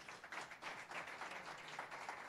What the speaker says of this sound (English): Give you guys a round of applause.